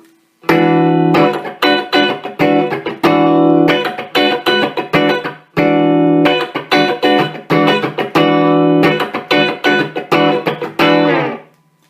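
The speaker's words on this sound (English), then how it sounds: "So I'm going to just play some basic chords using the clean sound with no reverb." Clean electric guitar chords strummed in a steady rhythm on a Les Paul with P90 pickups through a Quilter MicroPro Mach 2 amp, bright and dry with no reverb tail, a few brief pauses between phrases.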